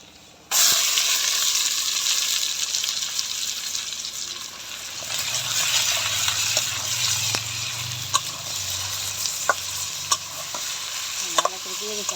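Chicken pieces coated in spices sizzle and spit steadily in a hot pan, a loud continuous frying hiss with occasional sharp pops and stirring scrapes, no talking.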